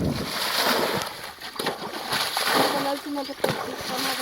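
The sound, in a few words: water being bailed and splashed out of a pond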